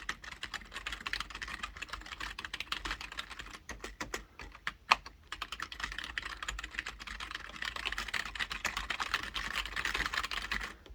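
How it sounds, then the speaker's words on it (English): Rapid, continuous clicky keystrokes on a Dell SK-8115 USB keyboard, close and crisp, with a brief pause midway before the fast typing resumes. "I'll shut up for a second and just hammer the keyboard so you can hear it"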